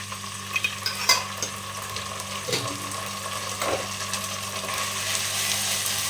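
Ginger, garlic and green chili paste hits hot oil in a pan with a steady low sizzle, a few stirring scrapes and clinks early on, close by, with no talking.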